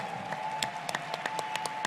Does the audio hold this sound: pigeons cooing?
no